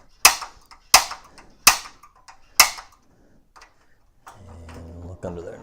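Rivet being pushed out with a rivet removal tool on an RV-10 aircraft build: four sharp, loud snapping clicks in an even rhythm, then a quieter rising mechanical grind as the rivet gives way.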